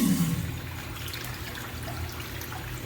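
Water draining slowly from a urinal, a steady low gurgling rush with faint trickling, heard close and alone without any talking.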